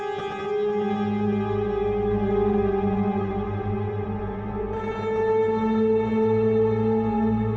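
A sustained, shimmering synth-like sampled instrument tone with lush reverb tails, steady chords holding throughout and shifting slightly midway.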